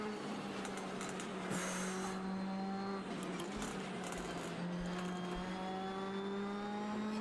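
A WRC rally car accelerates on the Nürburgring in Assetto Corsa, its engine a steady, loud drone whose pitch climbs smoothly through short gear ratios, with no talk over it.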